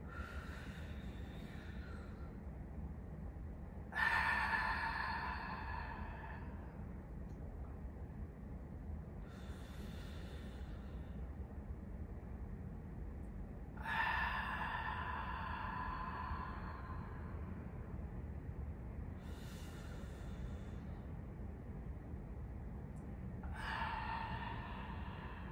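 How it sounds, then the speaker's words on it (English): A deep inhalation during a pelvic floor exercise, heard as three long, breathy intakes about ten seconds apart over a steady low background hum, with no talking. "Okay, so we're gonna take a deep breath in."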